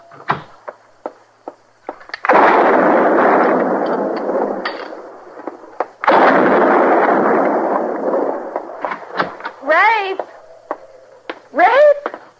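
Gunshots near a barn in the Old West: scattered sharp cracks, then two heavy, booming blasts that roll on for several seconds each, followed by more short cracks and voices speaking.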